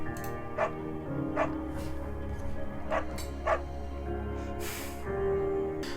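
A beagle barks in the game Firewatch, with four or five short, sharp barks spaced unevenly over a steady low background hum, moderately close and without talk.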